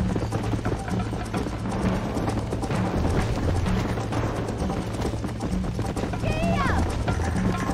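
A horse gallops in the Red Dead Redemption video game, rapid rhythmic hoofbeats running steadily throughout, with voices talking over the clip and some background game sounds.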